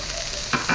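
Garlic sauteing in a frying pan, a steady close sizzle with two quick stirring scrapes near the end of a brief moment.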